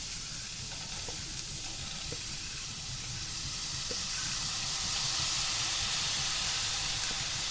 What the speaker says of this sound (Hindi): पैन में सबसे पहले हम ये भीगी हुई दाल इसमें शामिल कर देंगे।